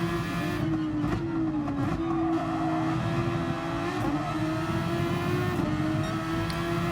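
A race car engine in the Gran Turismo video game drones loudly and steadily, its tone shifting slightly with gear changes, alone without talk.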